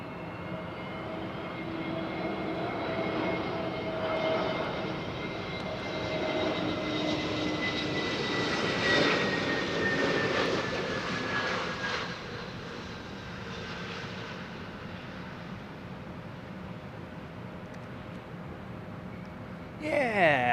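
Fixed-wing airplanes roar in on approach to land in gusty, blustery wind, a long distant jet engine drone swelling to a peak midway and slowly fading, steady wind noise underneath.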